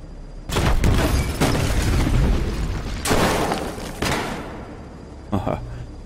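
Batmobile cannon shots and blasts in Batman: Arkham Knight, a run of loud booming bursts with rumbling decay, two big hits early and a later pair, ending with a smaller pop.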